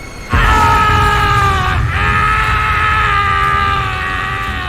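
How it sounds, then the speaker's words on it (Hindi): A loud, sustained high-pitched scream begins abruptly and holds for several seconds, briefly wavering before continuing at full strength. "तभी चट्टान के उस पार से हमें एक खून जमा देने वाली चीख सुनाई दी।"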